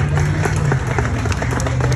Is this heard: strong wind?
no